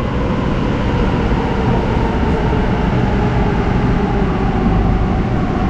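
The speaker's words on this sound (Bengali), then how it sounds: "তার সাথে কিন্তু মেট্রো চলে এলো" A Kolkata Metro train rumbles into the station with a loud, steady roar that holds constant throughout, without pauses.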